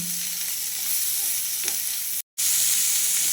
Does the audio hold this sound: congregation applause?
no